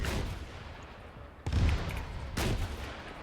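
Rocket launcher fire in the Arma 3 military game, aimed at a bright red Toyota technical during anti-tank training: two sharp, loud blasts about a second apart, with a rumbling tail over a quiet background.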